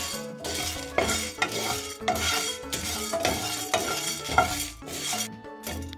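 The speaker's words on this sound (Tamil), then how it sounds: "லோ ஃப்ளேம்ல வாசனை வர வரைக்கும் வறுத்து எடுத்துக்கலாங்க." Seven dried red chillies and coriander seeds dry-roasting in a pan over a low flame, with a steady scraping stir, repeated rattles of spoon against metal and light crackle, close and fairly loud without talk.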